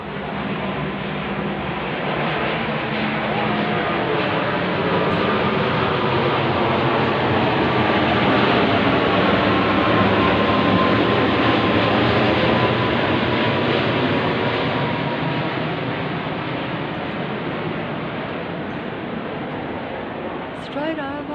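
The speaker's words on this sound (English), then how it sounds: "now we have the jet army aeroplane coming over my head" A military jet aircraft passes overhead on a street, a loud, broad roar that swells and holds steady for about twenty seconds before easing slightly at the end.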